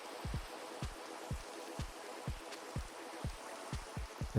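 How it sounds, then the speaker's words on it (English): Rain in Minecraft, the video game, patters as a steady series of soft, evenly spaced drip-like taps with a faint hiss behind them, moderately quiet and alone. "Get rid of this rain."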